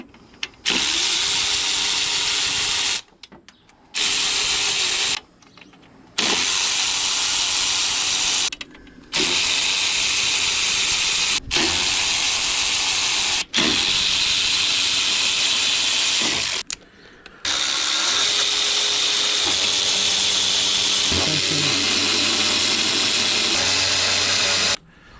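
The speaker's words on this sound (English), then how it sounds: "Just gonna unbolt the intake." A power tool ratchets bolts loose from the intake manifold of a 2012 Chevrolet Silverado 5.3 V8, loud buzzing bursts running several seconds each, separated by short silent gaps.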